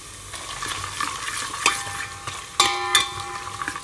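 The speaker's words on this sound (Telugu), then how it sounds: "అన్ని కలిపి మంచి వాసన వచ్చే వరకు వేగించుకోవాలి" Cashews and raisins are stir-fried in a pan for sweet pongal, a soft sizzle under repeated sharp scrapes and clinks of a ladle against the metal, close and unaccompanied by speech.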